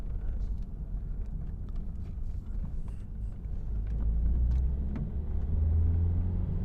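A 2015 Nissan Juke 1.5 dCi with a boost fault pulls away sluggishly in first gear, a low steady engine rumble that swells slightly as it accelerates, heard from inside with no talking.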